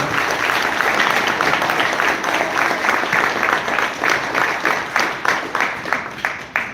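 Applause from the audience at the Fort Smith city council meeting, many hands clapping briskly and then thinning out into scattered, fading claps toward the end.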